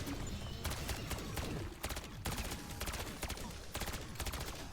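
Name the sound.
LMG burst fire in Black Ops 6 Zombies video game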